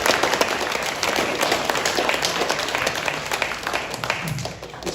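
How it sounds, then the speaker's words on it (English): An audience gives a round of applause at a livestreamed event, steady dense clapping that holds for several seconds before gradually thinning out. "Let's actually have another round of applause."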